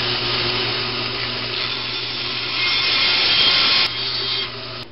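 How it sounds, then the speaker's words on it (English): A bandsaw cuts through a four-way pipe connector, giving a steady loud whirring hiss with a constant motor hum beneath, rising slightly mid-cut and then dropping as the blade finishes, with no talking. "I'm going to use the bandsaw."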